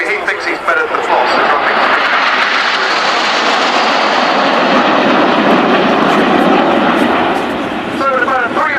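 Red Arrows display jets flying in formation at an air day, a loud continuous broad roar that holds steady throughout with slight swells, while a commentator talks over it.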